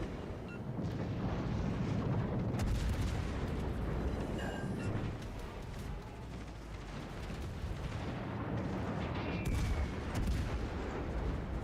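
Naval guns roar in World of Warships: Legends as a ship fires on an island, a dense, continuous rumble of heavy shots and booms that swells and recedes across the whole stretch.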